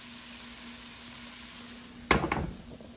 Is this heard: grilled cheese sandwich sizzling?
yes